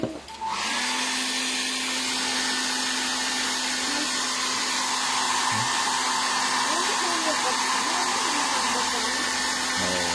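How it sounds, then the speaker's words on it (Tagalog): A hair dryer blows continuously and loudly at close range, drying fresh paint on a McFarlane Toys Batman Grim Knight figure being custom repainted; its steady whooshing whine holds for the whole stretch. "Gumagamit din ako ng hair blower para mas madali matuyo."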